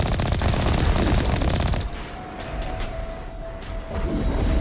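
Rapid, sustained machine gun fire in Mass Effect 1, a loud continuous burst for nearly two seconds, then a few scattered shots and mechanical sounds before the firing resumes near the end.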